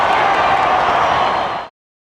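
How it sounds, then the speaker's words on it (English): A football stadium crowd roaring during a 1998 West Coast Eagles versus Western Bulldogs match, a broad, steady wash of cheering that cuts off abruptly after under two seconds. "Listen to the crowd."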